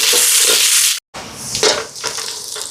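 Green chillies and onion sautéing in a pan for a chicken curry almsgiving meal in Jaffna, Sri Lanka: a steady broad sizzle with stirring scrapes, broken by a brief silent gap before the frying resumes.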